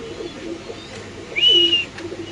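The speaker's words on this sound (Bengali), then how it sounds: "কালো ডেনিশ কবুতর" Black Danish pigeons make soft low coos at a pigeon farm in Mirpur, Dhaka, close by, with one brief higher whistle-like call over a low background hum.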